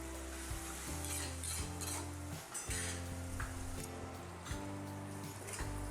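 Spice masala for dal tadka roasts in a pan with a steady sizzle, broken by occasional scraping stirs and clinks of a utensil against the pan, over a background tonal hum.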